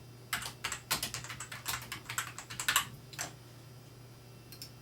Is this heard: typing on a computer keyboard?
yes